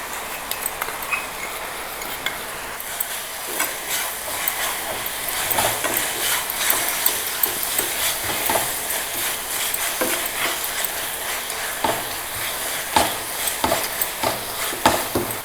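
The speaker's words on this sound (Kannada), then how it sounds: "ಇದು ಸಕ್ಕರೆ ಪಾಕದ ಥರ ಹಾಕಬೇಕು ಇನ್ನೂ ಸ್ವಲ್ಪ ಕಲ್ ಸಕ್ಕರೆನ ಆ್ಯಡ್ ಮಾಡ್ತಿದ್ದೀನಿ" A spoon stirs a sugar and rock sugar syrup in a pan for gulkand, giving a steady run of soft scraping and sticky bubbling sounds, close up and continuous throughout.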